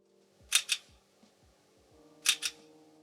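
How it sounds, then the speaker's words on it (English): Two pairs of quick mechanical shutter clicks from a Panasonic Lumix GH6 camera during a firmware update, each a double snap, separated by a short pause over a faint electronic hum. "you'll hear the shutter a few times as well"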